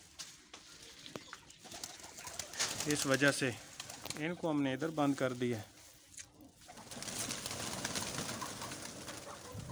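Pigeons coo in repeated soft throaty phrases at close range, with someone talking over and between the calls in a poultry yard.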